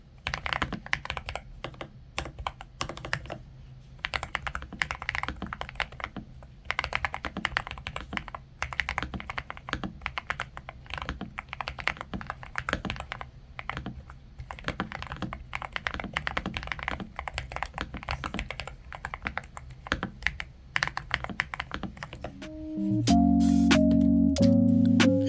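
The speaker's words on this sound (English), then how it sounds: "Here's another typing test without any microphone, just using my phone's microphone." Typing on a NuPhy Node75 low-profile keyboard, captured through a phone microphone: a steady stream of soft, close clacks and taps, with a brief tonal sound near the end.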